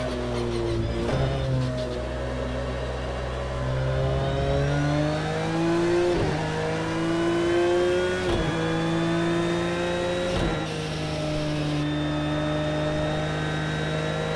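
A Porsche 911 GT3 R engine in the racing game Project Cars 2, suffering engine damage on its original setup, revs hard and loud, climbing through gears with repeated sharp shift drops and a constant high whine.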